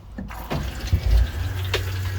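Water runs from an RV tap on an Ultrastore camper with the water pump switched on, a steady gurgling flow with sputtering bursts and thumps as air clears the lines.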